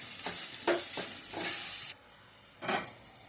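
Capsicum curry with tomato and onion frying in a pan, with a soft sizzle under a few scraping strokes of a spoon stirring the mix, fairly faint and close, and no talking.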